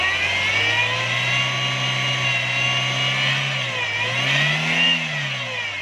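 A 1996 Toyota Corolla 12-valve engine revs steadily at a high, whining pitch during a fuel adjustment, dips briefly, then climbs again, loud and close with no talking.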